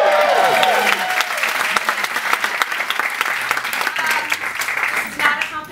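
A live audience claps and cheers loudly and continuously at a celebrity event, with dense applause and scattered whoops and shouts throughout.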